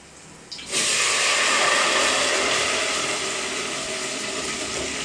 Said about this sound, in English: the next thing to do is to pour in the mixed blended of onions and pepper.